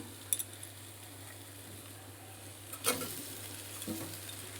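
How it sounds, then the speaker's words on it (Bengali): Ginger powder and vegetables stirred in a frying pan, a low steady sizzle with a few clinks and scrapes of a utensil on the pan. "আদার গুঁড়োটাও দিচ্ছি এবার একটুখানি ভালো করে নাড়াচাড়া করে নিই"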